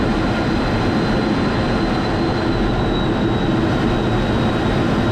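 Steady, loud, broadband roar inside the cockpit of an F-16 Fighting Falcon fighter jet in flight under a bubble canopy, a constant engine and airflow rush with a faint high whine and no breaks.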